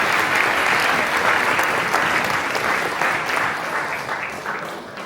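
A crowd at a Diwali rewards ceremony claps warmly and continuously for community volunteers, the loud applause tapering gently toward the end.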